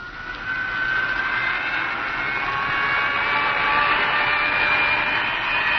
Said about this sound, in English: Fire up number 1 cyclotron.